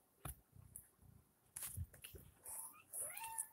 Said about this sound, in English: All the cats came in here.